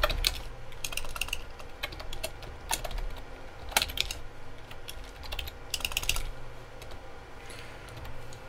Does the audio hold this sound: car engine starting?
no